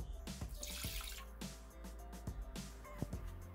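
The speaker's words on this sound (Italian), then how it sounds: "Iniziamo la ricetta mettendo all'interno del boccale l'acqua" Water is poured into the jug of a Thermomix TM6 kitchen machine, a close, quiet splashing and trickling with small knocks and drips.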